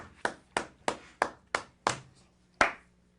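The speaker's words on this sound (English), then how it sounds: "I really felt the love of those claps." Seven separate, fairly even hand claps, sharp and close with short decays and a brief pause before the last one, alone without talk.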